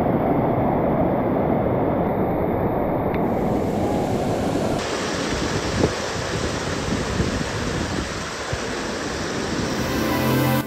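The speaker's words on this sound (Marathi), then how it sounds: "सगळं पाण्याचा झरा खाली वाहून येतोय, पूर्ण जेवढे पण दगड होते दगडावर पाणी सगळं खाली वाहत" A mountain stream rushes down over rocks during heavy monsoon rain near Visapur Fort, making a steady, loud, close wash of water noise with no talking throughout.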